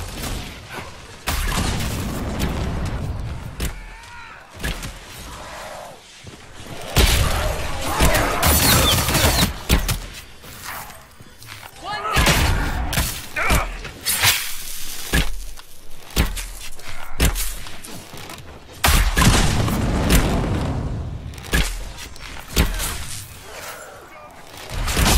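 Incoming gunfire cracks and booms in irregular loud bursts across a long stretch of combat. Footsteps, clattering gear and tense shouted talk are mixed in with the shots.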